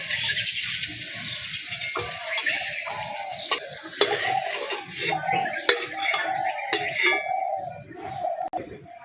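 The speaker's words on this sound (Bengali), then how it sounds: "বেগুনটা হালকা করে ভেজে নিচ্ছি" Brinjal pieces fry in a pan, a light sizzle broken by repeated clinks and scrapes of a spatula against the metal as they are turned, close and clear with no talking.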